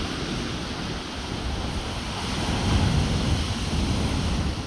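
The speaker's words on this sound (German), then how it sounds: "Der Wind ist echt kalt." A cold, stormy wind blows across a beach while sea waves break, giving a loud, continuous rush with low wind rumble against the microphone that swells toward the middle, with no voices.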